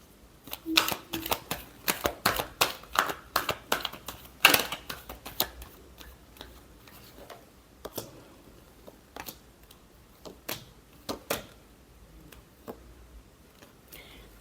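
Tarot cards are shuffled by hand up close, a quick series of crisp riffling snaps and taps in bursts that thin out toward the end, with a little speech.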